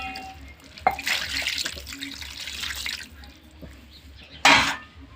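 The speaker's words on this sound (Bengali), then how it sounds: "দিয়ে দেব পরিমাণ মতো জল।" Water poured into a pan of raw fish and pumpkin curry mixture, a steady splashing pour for about two seconds, then a second, louder burst near the end, close by with no talk.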